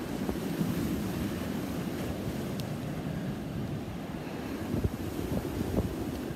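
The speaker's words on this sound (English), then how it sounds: "Oh, I'll definitely think the sea's coming in." Sea waves roll in beside a pier, a continuous low wash and surf rumble mixed with wind buffeting the microphone, steady throughout with a couple of slightly louder surges and no talking.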